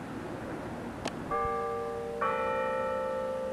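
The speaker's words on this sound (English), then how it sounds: "Bells in the background." Church bells ring out clearly at a moderate distance, with a short knock first, then one bell tone and a second, stronger tone that both hang and sustain. No one talks.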